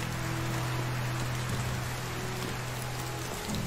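Steady rain on a wet autumn day in the game Medieval Dynasty, a dense even patter of drops over a low constant hum, with no voices.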